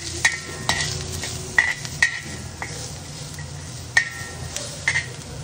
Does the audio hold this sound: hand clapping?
no